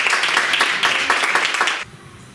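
Applause from a school audience at a secondary-school public speaking contest: a dense, steady burst of many hands clapping up close for about two seconds, then cutting off sharply.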